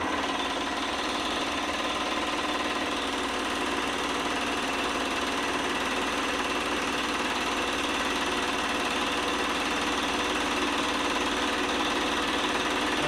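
A Delta Rockwell scroll saw runs continuously after being switched on, giving a steady, loud mechanical hum and rapid vibrating buzz with no pauses across the whole stretch.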